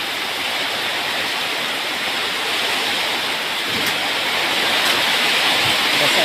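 Heavy rain pouring outside, a loud dense steady roar of water close by, unbroken throughout.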